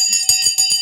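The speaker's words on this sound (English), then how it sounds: "The overnight bell has gone." An electronic overnight bell for a stock market simulation rings as a short run of rapid repeated chimes, bright and close, heard alone.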